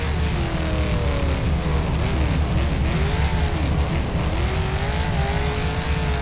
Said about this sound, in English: So I pulled a little bit of a drift there and it's just right out of control.